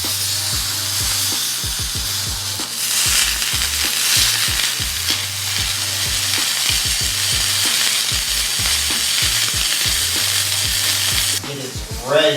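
A sous vide steak sears in a hot pan with a loud, continuous sizzle and hiss, under a repeating low hum and thumps, ending in a brief sharp flare of spatter.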